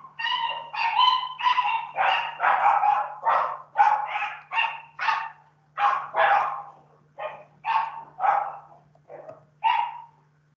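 Dogs barking nearby as they are let out, a run of about twenty sharp, evenly spaced barks and yips with brief gaps between them, heard clearly against a quiet background with a faint steady hum.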